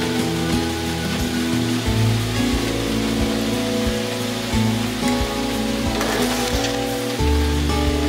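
Heavy rain pours steadily over a foundation construction site where sand is being filled, a dense continuous hiss with low rumbling machinery and occasional knocks underneath.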